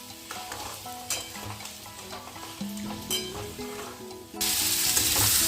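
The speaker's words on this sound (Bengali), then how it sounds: "আলুটা মোচার সঙ্গে ভালো করে কষিয়ে নেব" Potato and banana flower stir-frying in hot oil, with continuous sizzling and scraping as the pieces are tossed, the hiss growing suddenly louder and brighter near the end.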